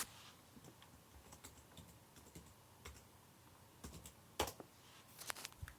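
Rapid, uneven key clicks from typing on a laptop keyboard during troubleshooting of a computer that won't boot, close and fairly quiet, with a few sharper, louder taps near the end.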